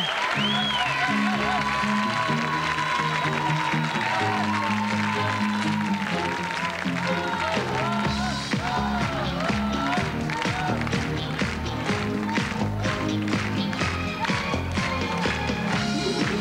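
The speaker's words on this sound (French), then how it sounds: "Merci de l'applaudir" TV studio audience applauding during a 2003 French TF1 music show, steady clapping running under loud pop music and a singing voice throughout.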